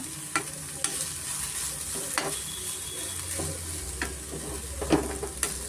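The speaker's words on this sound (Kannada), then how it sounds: "ತರಕಾರಿನ ಮೀಡಿಯಮ್ ಫ್ಲೇಮಲ್ಲಿ ಸ್ವಲ್ಪ ನಾನು ಫ್ರೈ ಮಾಡ್ಕೊತಾ ಇದ್ದೀನಿ" Chopped vegetables for instant vegetable dosa fry in a pan over a medium flame, with a constant nearby sizzle punctuated by periodic scraping strokes from the stirring spoon and no speech.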